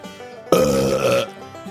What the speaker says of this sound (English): they get the wet belch